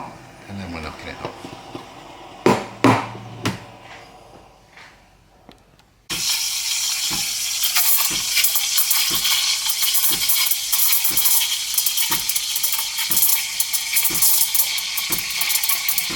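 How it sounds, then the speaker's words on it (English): Steam wand of a home espresso machine froths oat milk for a cortado: after quiet handling noises and a few knocks, a loud, steady hiss with a light chirping edge starts abruptly and carries on to the end. "So you can hear that nice little chirp. Well, that's the steam I'm just filling the milk with the micro bubbles."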